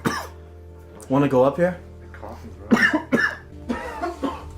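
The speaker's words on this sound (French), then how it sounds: "Starting to cough." Several people cough and clear their throats from a foul stench while exploring an enclosed space, repeated nearby coughing bursts mixed with brief talk.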